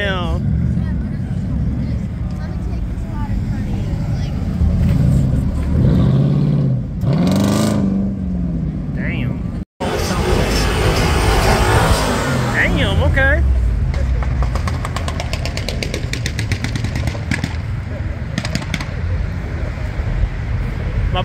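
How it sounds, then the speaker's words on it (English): Car engine revving on a busy street at night, with loud swelling engine roars and traffic noise beneath excited voices talking and shouting nearby. "Boy, you gonna rev it?"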